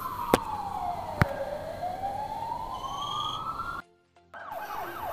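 A wailing ambulance siren sweeps down and up in pitch, with a couple of sharp clicks and a brief cutout before it resumes.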